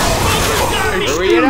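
Gunfire in Left 4 Dead 2 crackles as dense overlapping shots mixed with game noise, with voices shouting over the shooting.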